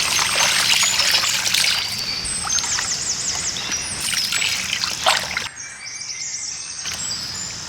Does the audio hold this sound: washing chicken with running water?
yes